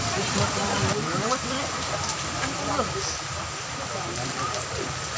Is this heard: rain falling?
yes